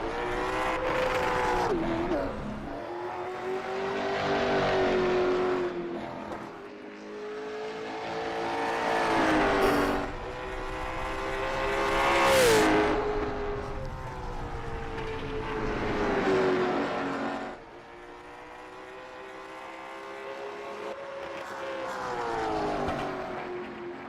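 Race cars at the Sunshine Derby short-track oval, engines rising and falling loud and close through repeated laps, with several surges and brief revving peaks, no talk over the roar.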